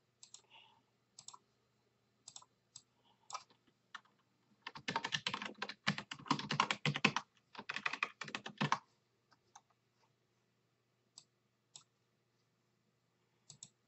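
Computer keyboard typing: scattered isolated key clicks, then a dense, fast burst of typing lasting several seconds, then a few more sparse taps, close and quiet in an otherwise silent room.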